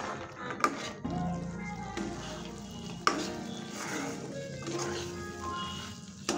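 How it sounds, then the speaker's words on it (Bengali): Fried mini gaja pieces are stirred nonstop in hot sugar syrup, with a soft steady sizzle and bubbling, sharp scraping clinks of a utensil against the pan, and faint background voices. "এইভাবে কিন্তু অনবরত নাড়তে হবে।"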